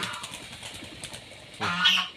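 Geese on a small natural farm kept alongside ducks and chickens give a loud, nasal honk near the end after a stretch of soft background rustle, fairly close with no talk.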